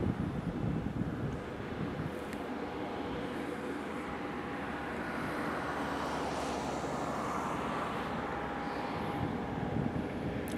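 Aircraft at Madeira Airport, a steady distant jet roar mixed with wind buffeting the microphone, continuous and fairly even throughout.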